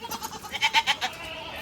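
Two goats bleat from inside their shed, a series of close, wavering calls that swell in the middle and then fade, with no talking.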